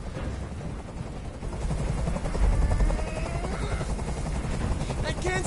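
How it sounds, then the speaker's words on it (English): A helicopter hovers in Detroit: Become Human with a steady, loud rotor drone and rumble that swells slightly midway, and voices speak over it. "Tell that helicopter to get out of here"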